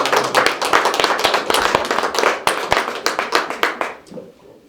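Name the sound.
audience applause at press cocktail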